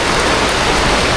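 Heavy rain falls outdoors near a house under construction, a loud dense steady hiss of drops on surfaces throughout, with no talking.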